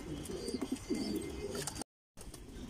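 Domestic pigeons, including a young squab, coo in a low, soft, rolling pattern across a loft, with a few faint rustles and a brief gap of silence near the end.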